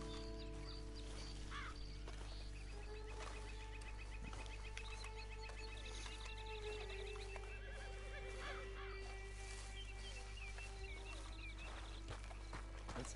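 Red Dead Online horse whinnying alongside hoof clip-clops and clucking chickens, set over a steady low game ambience with no speech.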